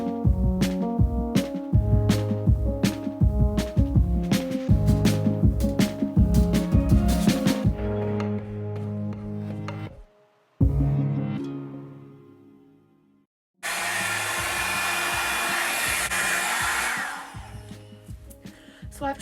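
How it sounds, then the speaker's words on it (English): A Revlon 2-in-1 styler hair dryer blows loudly while drying hair, a steady, rushing whoosh that starts abruptly after a stretch of rhythmic music and runs for several seconds. "So I've just dried the first half of my hair, the underside of my hair"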